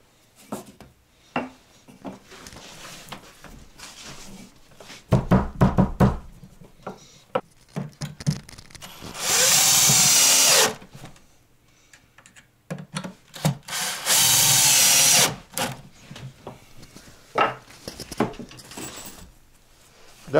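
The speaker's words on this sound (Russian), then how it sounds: "И снова таким же образом скрепляем на саморезы." A power screwdriver drives self-tapping screws into a fibreboard beehive body lined with foam, with two sustained loud whirring runs of a few seconds each amid scattered handling knocks and rubbing.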